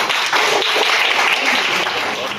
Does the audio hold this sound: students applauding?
yes